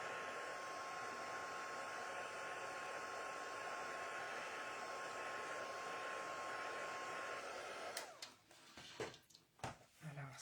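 A hair dryer blows hot air over a piece of artwork to speed its drying: a steady, close whooshing hum for about eight seconds, then it cuts off into a few sharp handling knocks and rustles.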